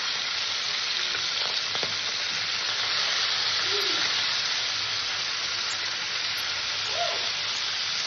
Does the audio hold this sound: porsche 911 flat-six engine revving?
no